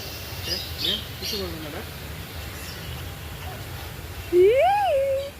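A single rising, drawn-out crow squawk rings out near the end, following faint scattered calls and low background noise in a park.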